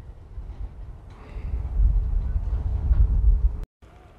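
Elevated view over the Kaeng Khoi Junction railway yard in Thailand, with a steady low rumble of trains and rail traffic swelling in the middle, a faint tonal whine, and no voices.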